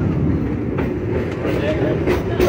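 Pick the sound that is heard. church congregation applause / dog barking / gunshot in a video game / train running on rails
train running on rails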